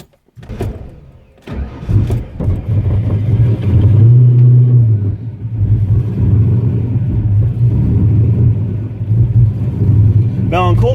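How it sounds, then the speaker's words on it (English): Cold start of a 1987 Fox body car engine, cranking and catching into a loud, close rumbling idle with a brief rev that settles to a steady low drone. "I'll do a cold start and then we'll just get warmed up"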